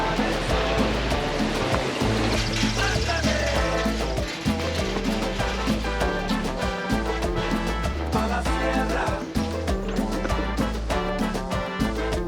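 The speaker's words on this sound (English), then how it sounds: "That river noise." A river in Peru, on a hike toward Machu Picchu, rushes in a loud, constant wash that stays broad and unbroken across the whole stretch, with no talking.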